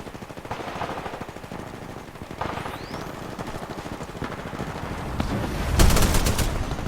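Rapid automatic gunfire from the shooter game Titanfall 2 in multiplayer combat, a dense stream of shots running throughout and swelling into a louder burst near the end.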